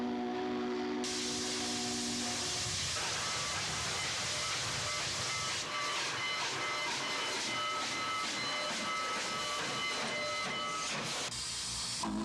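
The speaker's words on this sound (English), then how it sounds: "the Union Pacific put together their historic Centennial train pulled by the venerable steam locomotive 844" Union Pacific steam locomotive 844 pulling a historic Centennial train, heard as a loud, continuous hiss of steam with shuffling mechanical rhythm, fairly close, amid rail noise.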